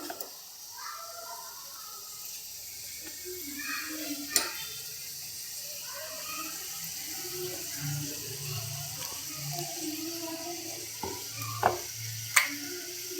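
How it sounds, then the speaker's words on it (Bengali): Spice paste is added to a pan of frying peas, giving a soft, steady sizzle with scattered stirring clicks and a few sharper taps over about thirteen seconds. "মশলা পেস্ট দিয়ে দিচ্ছি"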